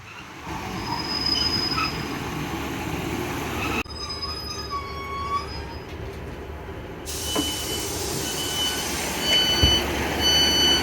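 Class 150 diesel train pulling into a small railway station, wheels squealing loudly over a rumbling roll, close by and without voices.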